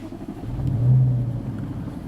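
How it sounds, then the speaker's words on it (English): Jaguar XFR 5.0 V8 with automatic gearbox firing up, a deep low rumble that swells to a peak near the middle of the start and then settles into a steady idle close by. "So let's just start the engine again."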